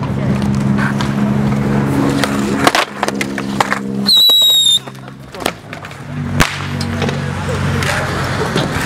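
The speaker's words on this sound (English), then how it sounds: "It's like February and people have fireworks out here." Fireworks bang outdoors near a skatepark in February, with several sharp cracks scattered among steady background noise and a brief whistling tone, while people talk nearby.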